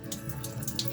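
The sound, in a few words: tap water washing coriander leaves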